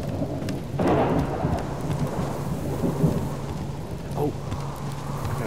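Thunder rumbles through a steady downpour of rain in the survival video game Subsistence, with a loud roll near the start and a softer one later, the rain hiss continuous and close throughout.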